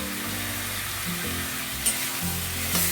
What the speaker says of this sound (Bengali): এবার এটাকে ভালো করে কষাতে হবে।